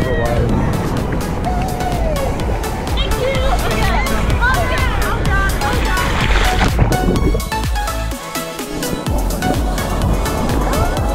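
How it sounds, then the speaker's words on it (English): Big ocean waves crash and wash ashore at Horseshoe Bay Beach, Bermuda, in a steady roar while people chat excitedly close by. "Some big waves."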